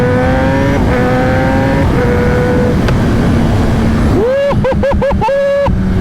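Kawasaki ZX-10R motorcycle engine holding a steady drone, then climbing and blipping in several sharp revs toward high RPM, loud and close.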